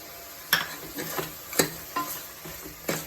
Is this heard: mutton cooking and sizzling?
yes